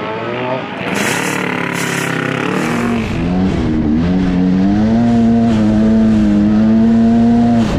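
Off-road race car driving the 2023 Mint 400 desert race, its engine droning loud and close in a steady rising pitch over rough terrain and jumps, with someone talking over it throughout.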